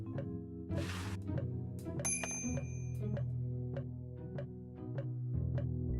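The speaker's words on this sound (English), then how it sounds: "Can we ring the bell?" A bright bell dings in the Day of the Tentacle Remastered adventure game, ringing out over a steady musical background loop.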